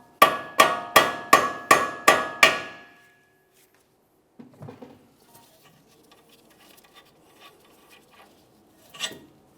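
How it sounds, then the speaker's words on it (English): Six sharp metallic hammer taps on the steering knuckle of a 2014-2019 Toyota Corolla, in a quick even rhythm, ringing briefly, followed by quieter scattered clanks and rustling. "we'll use a hammer, cause some vibration"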